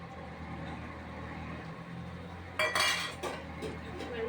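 Greens dropped into a simmering Bengali vegetable curry in a metal pot. A low background rumble is followed by sudden clinking and clattering of utensil against pot, then a few scattered knocks.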